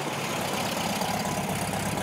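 A Pontiac V8 engine runs at a steady, throaty idle close by, a continuous low rumble with no voices over it.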